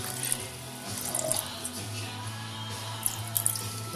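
Liquid pours in a soft, steady stream with faint splashes, quiet and close, no talking.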